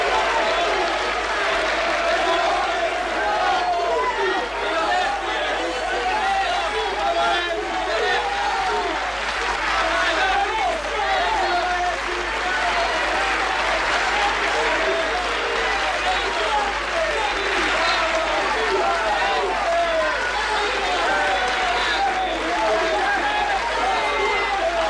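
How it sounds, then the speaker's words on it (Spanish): Opera audience applauding at the end of the first act, a dense, sustained wash of clapping from a large crowd with voices mixed in, steady and loud throughout. "¡Te están aplaudiendo a ti!"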